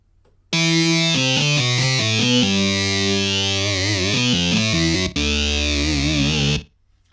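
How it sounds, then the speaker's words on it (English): A loud distorted keyboard lead plays a fast melodic run, its tone swirling with a phaser sweep, pausing briefly once before continuing. "Now I can change that to a phaser."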